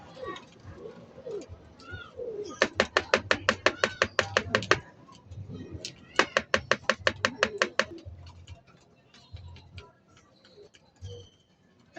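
Pigeons cooing nearby, including a red checker, with two bursts of rapid wing claps as birds take off, loud and close, low coos and soft background chatter between.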